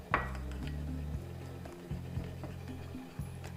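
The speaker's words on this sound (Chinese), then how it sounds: "搅拌一下" A spoon clinks against a bowl while stirring plain yogurt with fructose syrup for an avocado toast topping, a few sharp metallic taps over a steady low kitchen hum.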